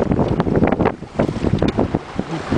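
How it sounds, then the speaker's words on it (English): A sailboat sails close hauled at about five miles an hour, with strong wind buffeting the microphone and water rushing past the hull, loud and continuous with no voices. "Moving along, close hauled at about five miles an hour."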